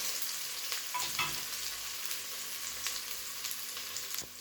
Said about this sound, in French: Mélanger et laisser revenir quelques petites minutes.